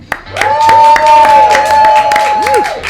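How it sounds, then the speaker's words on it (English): A live studio audience at the Ropeadope Room in East Philadelphia claps and cheers for about three seconds, a loud, steady burst of applause with a sustained musical tone and voices running over it. "And that is not canned applause. That's real applause right there."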